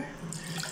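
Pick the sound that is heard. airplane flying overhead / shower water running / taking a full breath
shower water running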